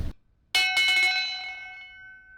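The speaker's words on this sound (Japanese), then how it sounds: "ここになんか鐘ありますね。 鳴らしときます。" A single bright bell strike from a large hand-rung bell at a seaside RV park rings out close and clear, its metallic tone sustaining and slowly fading over a couple of seconds.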